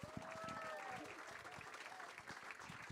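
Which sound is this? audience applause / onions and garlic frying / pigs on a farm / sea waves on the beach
audience applause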